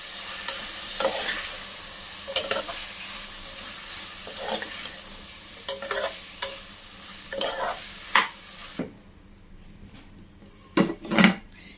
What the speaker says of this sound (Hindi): अच्छी तरीके से सारे मसालों को हम सब्जी में मिक्स कर लेंगे।